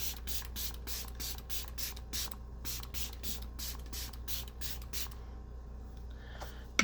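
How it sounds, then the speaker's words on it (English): A setting spray bottle is pumped at a face in quick, evenly spaced hissing bursts, about a dozen rapid spritzes close to the mic, then a pause and a small handling clatter at the end. "let me spray my face"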